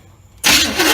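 A Small Block 400 car engine with a starter problem cranks abruptly after a moment of quiet, a loud, close, continuous grinding churn.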